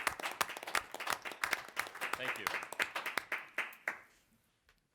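A meeting audience claps for the outgoing president, with brisk, fairly close applause for about four seconds that quickly dies away, and a voice briefly speaks near the end.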